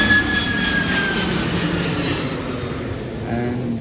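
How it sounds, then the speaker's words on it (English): An aircraft passes overhead near a metro station at Sydenham, a loud broad roar with a faint descending whine that fills the whole stretch. "as soon as that aircraft goes overhead"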